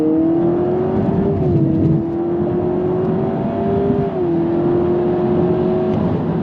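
A 2026 Honda Prelude accelerates in Sport mode, a loud steady engine tone climbing in pitch with brief dips at simulated gear shifts, heard from inside the cabin.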